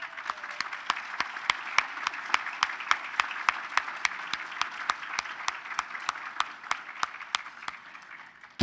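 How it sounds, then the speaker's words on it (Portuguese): Applause at a luncheon meeting of a lawyers' institute: a room of people clapping steadily for several seconds, with sharp regular claps standing out over the broad wash, before it tapers off at the end. "Que merece essa salva de palmas"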